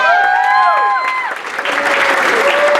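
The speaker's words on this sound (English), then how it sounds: "Give her a round of applause." An audience at a student leadership academy torch-passing ceremony breaks into applause for the college provost, a burst of clapping and crowd noise that follows gliding, whistle-like tones.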